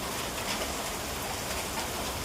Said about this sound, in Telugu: వర్షం వస్తుంది ఫుల్ ఈడ